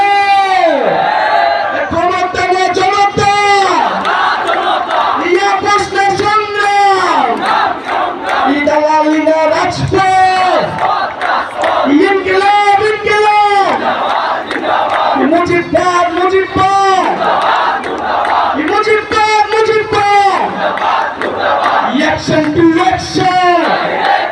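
A large crowd at a political rally in Chattogram chants slogans in loud, rhythmic call-and-response bursts, each phrase rising and falling, repeating steadily without a break for over twenty seconds.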